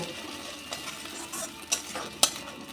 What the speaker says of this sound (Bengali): এবার এর মধ্যে দিয়ে দেব এই বেটে রাখা মশলাটা, জিরে, ধনে, গোলমরিচ আর শুকনো লঙ্কা। এটাকে একটু কষে নেব।